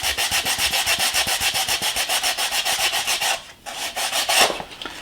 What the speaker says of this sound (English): So if you have a rough edge, you can sand it